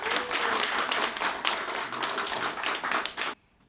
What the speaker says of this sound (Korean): 문화평론가 김갑수님을 여러분의 큰 박수로 모시겠습니다